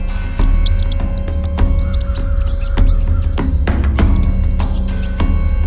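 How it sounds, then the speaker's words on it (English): Cartoonish mouse squeaks for a storybook about a hermit, several quick high chirps scattered over a busy backdrop of music and effects, fairly loud. "Suddenly, he saw a mouse."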